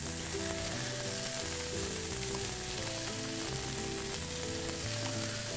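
Steady, dense sizzling of pancetta-wrapped dates frying in a hot pan with a little oil, continuous and close, with tonal music playing underneath throughout.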